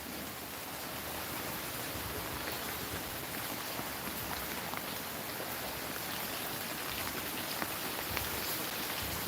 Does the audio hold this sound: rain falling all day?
yes